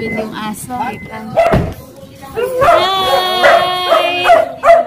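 A dog gives a few yips and a longer whimpering, howl-like cry at close range, mixed with brief human voices.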